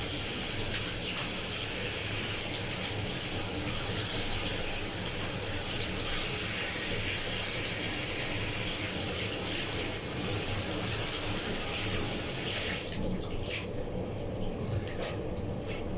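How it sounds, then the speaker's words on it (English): Steady running tap water splashing over fresh dhania as it is rinsed in a sink, a constant close hiss that continues for a long stretch before easing slightly near the end. "You need to wash it very well."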